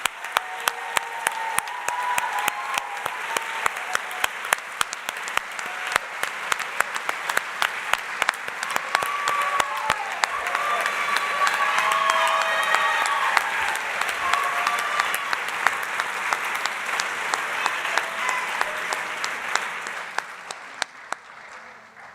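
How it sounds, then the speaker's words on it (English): Applause in Ted Mann Concert Hall for doctoral degree candidates at a University of Minnesota CFANS graduate commencement: a long, full round from a large audience with crisp individual claps standing out, swelling midway, then tapering off near the end. "Let's give a big hand of applause to everyone."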